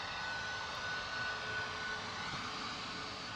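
An Enter Air jet pushed back and departing at Manchester Airport, its engines a steady, distant broadband roar that holds even and unbroken throughout, with no voices.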